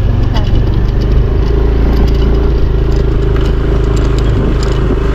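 Motorcycle engine running steadily and loud on a rural river road trip, a constant low rumble with some clatter, while riders talk over it.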